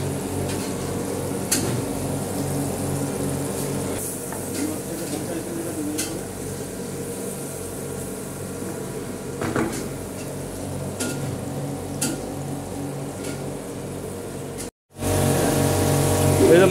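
Dory fish fry in a pan with a steady, close sizzle and occasional utensil clinks and scrapes, broken by a brief silence before a louder burst of sizzling.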